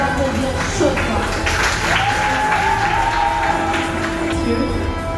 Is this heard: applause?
yes